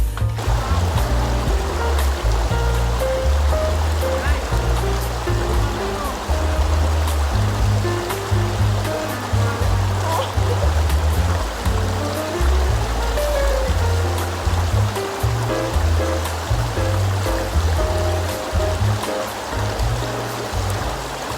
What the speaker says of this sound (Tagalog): Silip mi sa sapa. Musilip mi sa sapa.